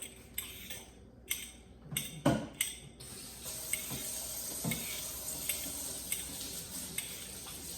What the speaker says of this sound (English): I'm actually gonna just step over here to the sink real quick and wash my hands